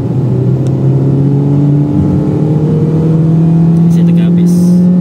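A Proton Saga 1.5 with automatic transmission accelerates at full throttle, its engine drone rising steadily and loudly in pitch over five seconds, with cabin noise throughout and no gear change.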